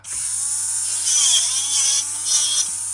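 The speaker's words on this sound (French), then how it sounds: "donc là, voilà, je vais poncer ici. Je vais poncer cette partie-là." A power tool sanding the handle of an Opinel knife, giving a steady high-pitched whine with slight rises and dips in pitch as it bears on the workpiece, loud and close throughout.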